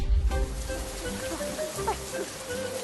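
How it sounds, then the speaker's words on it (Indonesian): Rain falling outdoors near a melinjo tree, a steady hiss of drops on surfaces throughout, with a voice talking over it. "Ini kok hujan sih? Kok di sini doang sih hujannya?"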